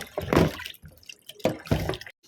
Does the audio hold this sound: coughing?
no